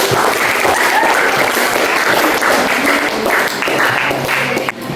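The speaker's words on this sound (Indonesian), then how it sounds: "tepuk tangan untuk anak-anak" Sustained applause from children in a classroom during a science lesson, steady and loud throughout with a brief dip at the very end.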